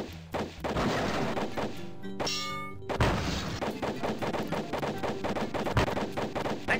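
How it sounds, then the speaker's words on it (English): Gunfire from a gun in the video game Sam & Max Hit the Road: a rapid run of sharp, loud shots in a steady rhythm, broken by a brief ringing clang, then resuming in quick succession. "I just like shooting the gun"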